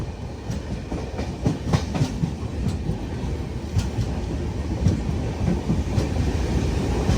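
Interior of a first class AC coach on a train from Chennai to Trichy moving slowly, with a low steady rumble and rhythmic clickety-clack of wheels over rail joints, moderately loud and continuous, with no talking.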